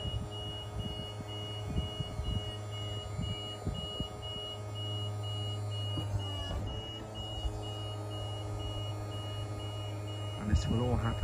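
Caravan self-levelling system sounding its audible warning beeps, a steady high tone repeating over about eleven seconds against a low motor hum, with a clatter near the end.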